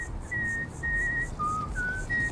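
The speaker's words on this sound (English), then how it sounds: "I changed the whistling because the vanilla whistling is just so awful" A game character whistles a short melody in Starfield, a modded whistle sound: several clear, pure sustained notes at shifting pitches with brief gaps between, heard alone over a quiet background.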